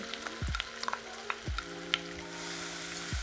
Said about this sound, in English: So I'm gonna add my leeks in. My oil is ready